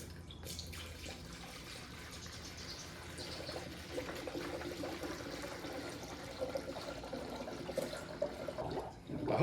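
Coolant pouring into the radiator of a Jeep Wrangler TJ Sport with a 4.0L engine, a faint continuous trickle and gurgle that swells slightly toward the end.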